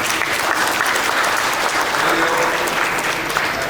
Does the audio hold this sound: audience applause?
yes